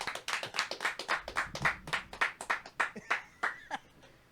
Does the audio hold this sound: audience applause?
yes